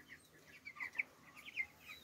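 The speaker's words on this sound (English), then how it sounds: "what 4 weeks old boiler chickens look like." Four-week-old broiler chickens cluck and cheep faintly in scattered short calls, soft and somewhat distant, with no talking.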